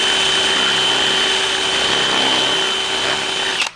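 A power drill with a 7/16 bit bores through plastic on a DIY fuse box project, a loud steady whine held for over three seconds that cuts off abruptly at the end.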